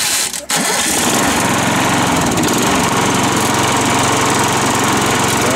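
A Mac 6+ small engine fires up after a brief rattle and settles straight into a loud, continuous buzzing run that stays steady and close throughout.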